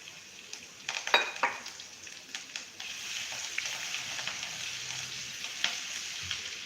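Chopped ginger, chilli and garlic sautéing in oil for a drumstick vegetable curry, a soft steady sizzle with occasional scraping stirs and a couple of sharper clinks, fairly quiet and close.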